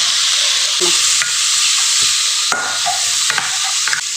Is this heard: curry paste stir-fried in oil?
yes